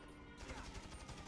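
Rapid shotgun and gunfire blasts in the GTA V video game, a dense, steady burst of shots close by, fairly quiet overall.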